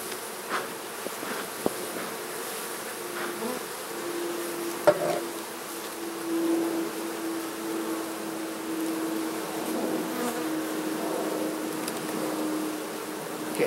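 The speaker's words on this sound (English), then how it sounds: "See, there's a lot of bees here." Honeybees buzzing around an open hive being smoked and split, a constant swarm hum with a steady mid-pitched tone and a few brief knocks, close by with no speech.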